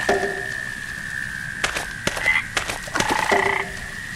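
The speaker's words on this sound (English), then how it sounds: "I always loved going to bed and hearing frogs sing in the pond." Frogs croak in a pond in the video game Memoranda, a scatter of sharp, close croaks and clicks against a steady high ringing tone, with no talking.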